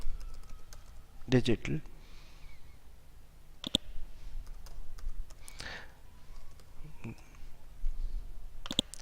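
Typing on a computer keyboard, bursts of quiet clicking keystrokes in short clusters separated by pauses, close and soft, with a voice talking quietly in between.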